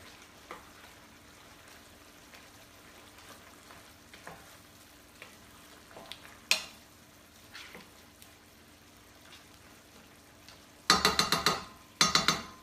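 Vegetarian curry with fresh basil cooking in a pan: a soft, steady sizzle with scattered small pops, then louder bursts of frying and stirring near the end.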